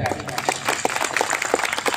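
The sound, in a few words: audience applause at a state ceremony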